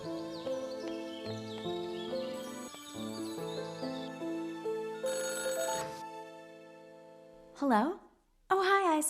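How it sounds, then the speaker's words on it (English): A melodic electronic ringtone plays, then a warbling trill rings out twice, loud and close. "Is that the phone ringing?"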